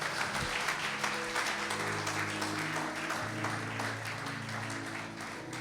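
Church congregation clapping and applauding steadily for several seconds, a dense continuous patter of many hands with music or murmuring underneath, fairly faint.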